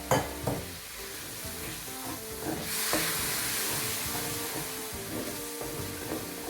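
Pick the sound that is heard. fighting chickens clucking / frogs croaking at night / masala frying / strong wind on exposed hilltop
masala frying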